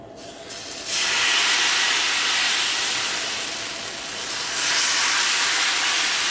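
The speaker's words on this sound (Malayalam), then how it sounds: "ഇതിലേക്ക് മാവ് ഒഴിക്കുക." Neer dosa batter hits a hot pan with a sudden loud, broad hiss of sizzling and steam that stays strong, dips briefly, then swells again.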